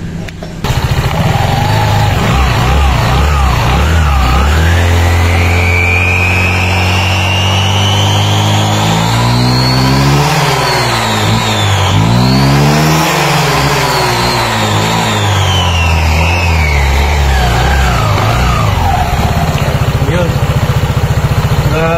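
A Griffin 180i scooter with a freshly set CRP and TSMP center spring revs hard on a straight road run. The engine pitch climbs, peaks, and eases back down again, loud and close, with a voice talking over it.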